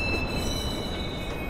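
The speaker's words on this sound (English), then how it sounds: "Northbound train arriving shortly." Subway train in the Watch Dogs video game pulling into a station, a steady rumbling roll with a faint high whine, continuous and fairly close, no talking.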